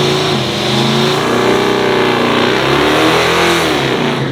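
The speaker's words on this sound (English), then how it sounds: "the 1997 GMC Sierra pickup truck of Grady Alley. Coming from the starting line from Algonquin, Illinois." A procharged 1997 GMC Sierra pickup with a 400 cubic inch small block Chevy engine accelerates hard off a drag strip starting line, a loud, close, steadily rising engine roar with no break.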